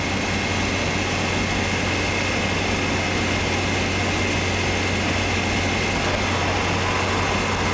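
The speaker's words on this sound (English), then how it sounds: "You'll also see the temperature start to rise now." Isuzu C223 diesel engine running on a Greasecar waste vegetable oil system, a loud, steady, continuous idling drone with a constant low hum and no talking.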